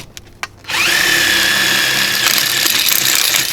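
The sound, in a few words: power drill with 1/4 inch bit drilling door handle holes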